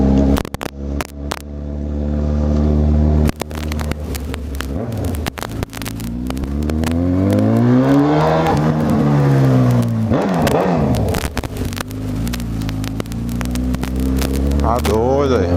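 A Honda CB1000R motorcycle is heard riding, its engine rumbling steadily close by, then rising in pitch as it accelerates and gearshifts, with dips between gears and wind buffeting. A rider speaks over the engine.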